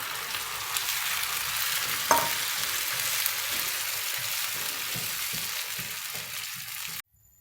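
Three grated tomatoes go into a pan of well-sautéed onions for a sauce. A steady, even sizzle runs for about seven seconds with soft stirring scrapes, then cuts off abruptly.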